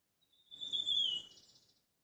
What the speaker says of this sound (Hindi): पक्षियों की कितनी मधुर ध्वनि है